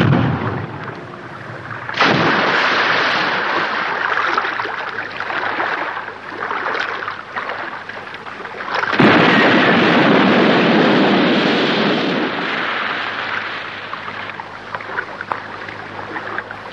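Guns opening fire in a sustained roar, with two sudden loud onsets of heavy booming and crackling blasts that fade gradually between the bursts, with no voices heard.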